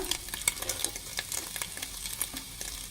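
Onions and mixed vegetables frying in a pan for street-style egg noodles, a soft continuous sizzle broken by frequent clicky stirring and tossing sounds, close but fairly quiet, with no voices.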